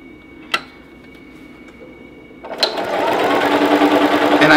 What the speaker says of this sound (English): We're sewing 1/4 inch.